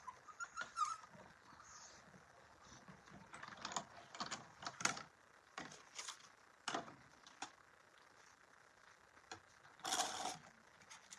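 An electronic cutting machine cuts a paper stamp frame and its center in one pass, heard as short bursts of whirring and clicking spaced irregularly, fairly quiet and close, with no talk.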